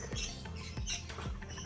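A red bird squawks loudly among a group of birds on the ground in the Bird Paradise aviary park in Singapore, with repeated harsh calls over a busy background of other bird chatter.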